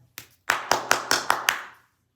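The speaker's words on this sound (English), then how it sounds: "When you're happy and you know it, clap your hands" A small group claps along to the children's song "When You're Happy and You Know It" at a casual tea time: a quick burst of about six sharp, evenly spaced claps close by, fading after a second or so.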